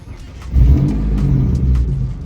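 A Japanese-market car at a small car meet starts up and revs hard, the deep engine roar jumping in loudly after a short pause and holding a steady, throaty drone to the end.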